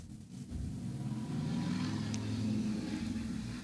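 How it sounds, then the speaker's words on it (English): A motorcycle passes outside, its engine drone swelling and holding at moderate distance with no one talking. "I'm not saying that all motorcycle people are annoying, but that one is."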